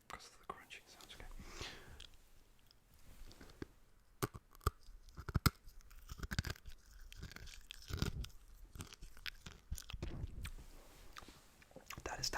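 Close ASMR crunching on hard candy, a series of sharp crisp crunch bursts at irregular intervals with soft whispering between bites, quiet and intimate.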